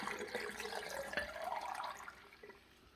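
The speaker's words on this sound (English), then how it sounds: "we're just going to pour in this liquid inside the eggs" Lime water is poured over fresh eggs in a container for preserving, giving a close, steady splashing trickle that fades toward the end.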